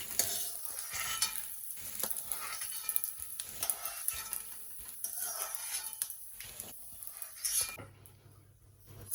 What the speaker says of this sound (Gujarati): ગુંદર થોડોક ફૂલાઈ જાય ત્યાં સુધી આપણે એને તળવાનું છે.